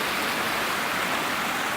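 Creek water rushes steadily over an old log dam in Cades Cove, Tennessee, giving a dense, continuous hiss and gurgle close by with no voices.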